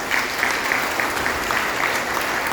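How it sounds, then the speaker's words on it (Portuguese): A church congregation at a Sunday communion service claps together, a steady, moderately loud patter of many hands with no gaps. "Palmas para Jesus, vem embora."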